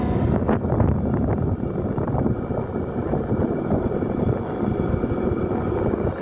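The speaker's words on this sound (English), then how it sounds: "see if the microphone can pick up how not aggressively windy it is" Steady buffeting wind rumbles against a microphone, a loud low roar with gusty fluctuations and no voices.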